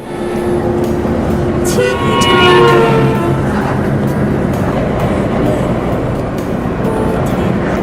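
Horns toot and honk over a steady roar of traffic on a road in China between Lanzhou and Dunhuang, with a louder blast partway through, as vehicles pass close by.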